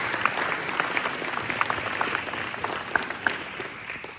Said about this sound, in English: Can we give a round of applause for Jenny and for Colin?